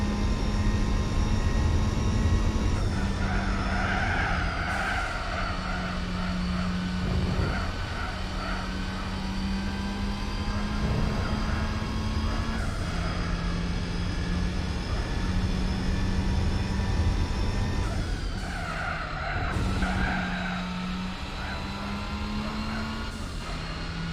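Small pickup truck in Gran Turismo 4 drones steadily, with a low engine tone stepping up and down through gear shifts over a continuous road rumble.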